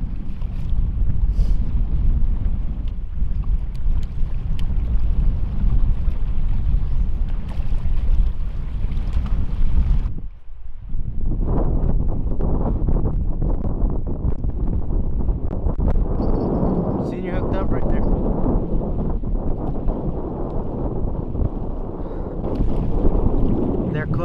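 Strong wind buffets the microphone in a constant roaring rumble on the shore of Lake Mead, briefly dropping out midway before resuming just as heavy.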